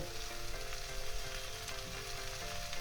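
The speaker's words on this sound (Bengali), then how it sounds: "কুমড়োটা দিয়ে আমি ভালো করে নাড়াচাড়া করে নিয়েছি" Thin strips of pumpkin fry in a pan with taro stolons and prawns, giving a steady, quiet sizzle with light scraping from the stirring. A faint tonal hum runs underneath and no one speaks.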